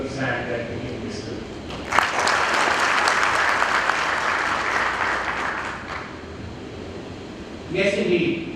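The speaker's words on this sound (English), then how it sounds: "Another round of applause" An audience at a live stage event in Pune bursts into applause for a speaker welcomed on stage, a dense wash of clapping that swells, holds for several seconds and fades, with another brief burst near the end.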